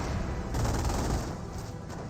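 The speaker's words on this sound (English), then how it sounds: "ATS are now seeing massive fire." Gunfire in the World War II strategy game Company of Heroes, a dense, rumbling fusillade of overlapping distant shots and booms rolling on continuously, with no voices heard.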